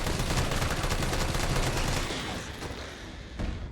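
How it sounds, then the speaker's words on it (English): A magazine emptied at close range in Resident Evil 3, dense rapid gunfire hammering steadily for about two seconds before tapering into a few sparser shots and a final sharp crack. "Just going to throw a flash grenade, mag dump to the face."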